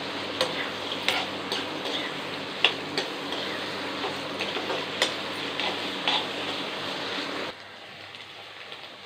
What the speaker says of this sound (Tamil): வெங்காயத்தை நல்லா எண்ணெயில் போட்டு வறுத்து